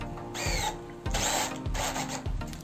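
Power drill driving a roughly 6 cm roofing bolt sideways into a light steel canopy post, three loud, close whining bursts separated by short pauses.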